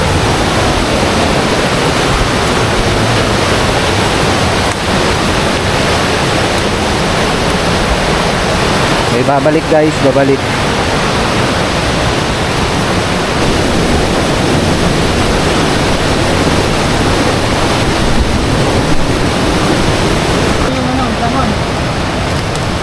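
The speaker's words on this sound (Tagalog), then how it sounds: "malakas ang agos ng tubig" A powerful river current surges nearby with a constant, loud rushing roar, while a person talks briefly over the water partway through.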